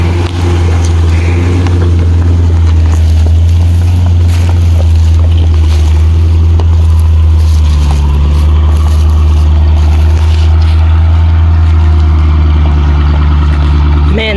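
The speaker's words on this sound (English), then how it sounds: "Man, that Jeep sounds so good." Jeep fitted with a 2017 5.7 Hemi V8 running on an Arkansas dirt trail, a steady loud low engine drone throughout with a slight pitch change midway, no talking.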